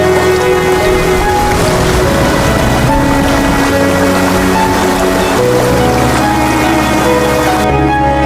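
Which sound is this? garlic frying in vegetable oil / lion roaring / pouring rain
pouring rain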